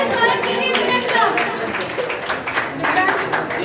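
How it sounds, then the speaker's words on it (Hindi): An audience claps for students at a school farewell ceremony, dense applause continuing for a few seconds while a voice speaks over it. "जोरदार तालियों से स्वागत कीजिए स्टूडेंट्स का।"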